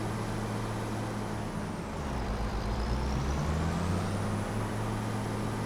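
A combine harvester rolls down a road in the Farming Simulator 25 game, its heavy engine droning steadily and fairly loud throughout, with a faint whine rising and falling.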